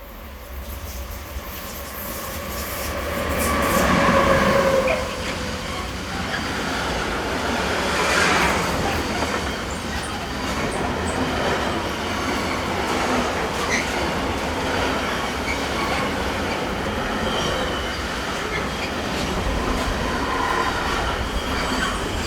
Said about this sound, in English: SBB Cargo's 193534 heads an intermodal bound for Italy.